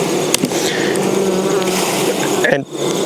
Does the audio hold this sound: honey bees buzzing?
yes